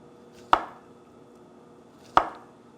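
A knife slices zucchini into 0.5 cm rounds, producing two separate, close, crisp chops onto a cutting board about a second and a half apart, with quiet between them.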